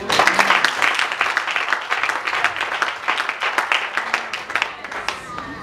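A church congregation applauding, steady close hand clapping from many people with rhythmic accents throughout, a few voices faintly mixed in.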